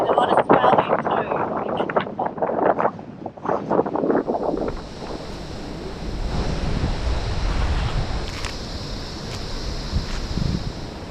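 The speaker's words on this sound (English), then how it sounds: "It's so windy" Heavy wind buffets the microphone while ocean surf and swell rumble and roll nearby at Lord Howe Island, Australia; people talk briefly at the start before the roar of wind and waves takes over.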